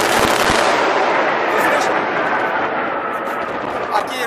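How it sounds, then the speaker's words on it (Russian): Rockets launching during an air attack in the Donbass, a loud continuous roaring rush of fire that fills the whole stretch, close and harsh, with no speech over it. "О, пошли ракеты!"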